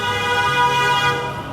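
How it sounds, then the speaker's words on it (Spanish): Steady blaring car horn tones sound loudly in a busy street in El Salvador, sustained and overlapping, with traffic noise underneath. "Aquí bocinazo limpio"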